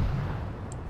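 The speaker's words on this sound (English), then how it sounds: "Explosions." A deep, rumbling explosion from the video game Grand Theft Auto 3 fills a brief moment, loud and continuous, with low booming energy and no voices.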